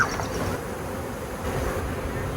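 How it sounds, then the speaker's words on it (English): A massive honeybee swarm being moved into a new hive hums in a dense, steady buzz, close and continuous. "A lot of bees again."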